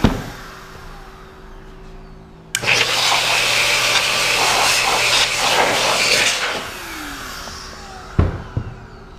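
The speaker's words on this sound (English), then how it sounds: "It's a little blower that we use." A small air blower used to test a sealed automotive headlight housing starts abruptly and runs with a loud, steady hiss for about four seconds, then cuts off, followed by a couple of sharp clicks.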